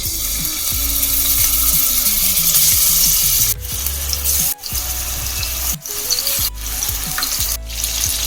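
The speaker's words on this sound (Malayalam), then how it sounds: "വെളിച്ചെണ്ണ ചൂടായിട്ടുണ്ട് നമുക്കിത് ഷാലോ ഫ്രൈ ചെയ്തെടുക്കാം" Fish shallow frying in hot coconut oil for a Kerala fish molee, a loud, steady close-up sizzle and crackle filling the pan, with a few brief clinks and stirring knocks partway through.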